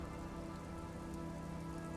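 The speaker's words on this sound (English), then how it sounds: "It's raining." Steady rain falls and patters on surfaces in the video game Disco Elysium, a continuous, even wash of drops with no voices over it.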